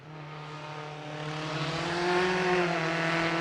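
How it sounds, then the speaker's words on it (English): A small Riley Special racing car at the Prescott hill climb, its engine a steady harmonic drone that rises gradually in pitch and loudness as it accelerates, fairly faint and heard alone. "Here's Chris Tabor in this very attractive little Riley Special"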